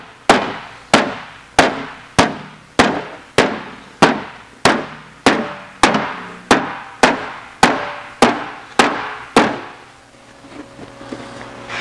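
Hammer blows shrink a metal body panel on a Porsche 550 build: about sixteen sharp, ringing metallic strikes at a steady pace, each decaying quickly, loud and close, followed by a quieter stretch at the end.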